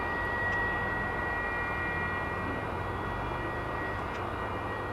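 Aircraft operating at DFW airport near the UPS cargo facility produce a steady, loud broadband engine roar that holds throughout, with no talking.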